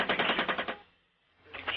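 A rapid burst of automatic gunfire from combat footage, evenly spaced loud shots for under a second, a brief lull, then another burst starting.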